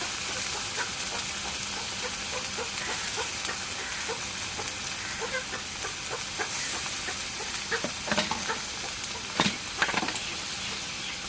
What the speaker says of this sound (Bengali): এখন জিরা বাটা রসুন বাটা দিয়ে দিই